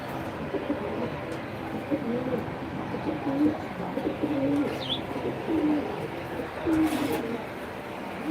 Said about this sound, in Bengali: তারপরে এখানে অনেক সুন্দর সুন্দর কবুতর আছে